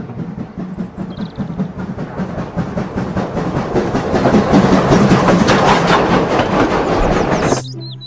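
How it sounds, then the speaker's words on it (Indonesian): A Thomas toy train runs steadily on its track with rhythmic clacking that swells louder midway, then cuts off abruptly near the end. "Ada kereta api Thomas"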